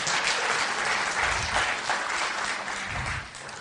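An audience applauds steadily and loudly throughout, a dense continuous clatter of many hands that fades slightly toward the end.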